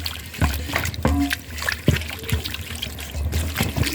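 Water trickles and splashes while sardines (omena) are washed by hand in a basin, with close, uneven dribbles and soft splatters broken by occasional clunks against the container.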